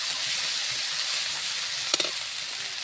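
Greens sizzle in hot oil in a pan as turmeric powder is added, giving a steady frying hiss with a couple of brief sharper crackles partway through.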